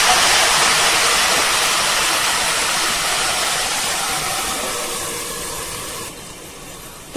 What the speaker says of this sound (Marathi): पाणी टाकून घेणार आहे, गरम पाणी